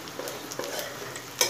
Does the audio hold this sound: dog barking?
no